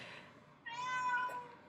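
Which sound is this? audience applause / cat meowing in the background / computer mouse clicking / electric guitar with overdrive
cat meowing in the background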